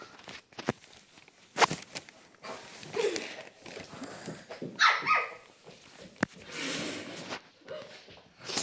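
A dog in a video game barks and snorts several times at uneven intervals, mixed with footstep-like thumps and other game noises, at moderate loudness.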